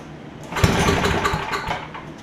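A Powerback 5250 watt generator with a 10hp Tecumseh engine cranks briefly, a short rough burst of engine noise that rises and fades without catching, close by.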